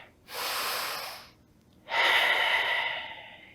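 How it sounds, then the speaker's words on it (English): Two deep breaths taken during a yoga session: a long airy inhale, a short pause, then a louder, fuller exhale, close and alone with no talk. "Take a deep breath."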